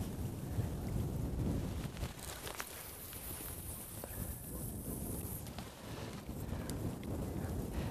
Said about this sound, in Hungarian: Ebben az egyre erősödő szélben